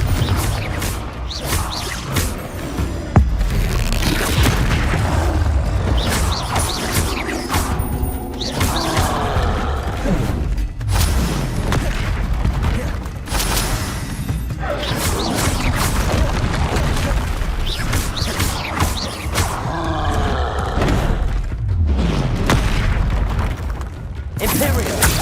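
Confringo explosion spells in Hogwarts Legacy go off again and again with booming blasts and whooshes amid loud combat noise, while a voice talks over the fighting.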